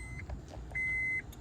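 A key fob emulator on a Xhorse key tool gives two short electronic beeps, a quick one then a longer steady tone, quiet and close.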